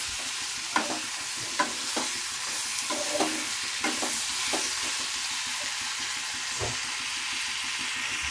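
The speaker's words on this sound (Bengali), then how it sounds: "এইভাবে কিছুক্ষণ আমি নাড়তে থাকবো।" Papaya chenchki being stirred as it fries in a pan, a steady hissing sizzle with a regular pattern of soft spatula scrapes and taps repeating every second or so.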